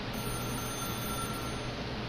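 Telephone ringing in the game The Stanley Parable: a steady, continuous electronic ring, loud and close, holding unbroken throughout with no voices.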